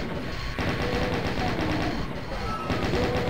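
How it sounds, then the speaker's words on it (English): Arachnotron monsters attacking in Doom II, a dense stream of rapid mechanical gunfire-like bursts sounding continuously from another room, steady and fairly loud with no talking. "You can hear all of the arachnotrons in the other room being very upset."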